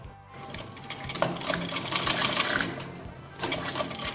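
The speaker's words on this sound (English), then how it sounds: "do stitching like this" A sewing machine stitches the frill of a six-panelled petticoat cut from petticoat cloth, running steadily and fairly loud in a continuous whirring rattle that pauses briefly before resuming near the end.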